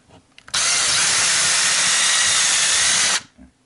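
A tool is pushed through drywall into insulation behind it, making a single loud, steady rushing burst of about two and a half seconds that starts and stops abruptly, with near-silence on either side.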